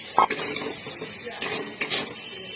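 Partly boiled potatoes stirred into a frying spice masala for chhanar kofta, a few distinct scraping and clanking strokes of a spoon against the pan over a quiet sizzle.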